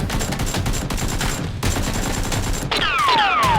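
Nerf guns firing in a Nerf war game, heard as dense rapid bursts of popping shots running continuously, with a brief gap and then whizzing, sweeping tones near the end.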